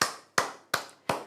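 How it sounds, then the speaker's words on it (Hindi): Four crisp hand claps at a steady, even beat, close and alone with no talk, given as a round of applause during a Hindi-language Class 9 science exam-preparation lesson. "तो एक बार तालियां हो जाए भाई साहब"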